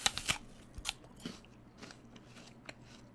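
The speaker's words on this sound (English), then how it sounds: "this one's super firm and crunchy" Teeth bite into a very firm, crunchy SugarBee apple, giving a sharp loud crunch up close followed by several quieter crunching chews.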